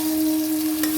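Duck egg curry masala sautéing in hot oil, a steady close sizzle with a constant tonal hum underneath and one brief scrape near the end, no speech.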